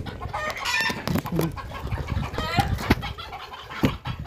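Chickens scattered by a pet crocodile cluck and squawk in loud, agitated bursts, with a crow-like call and flapping wings mixed in, close by and fairly continuous.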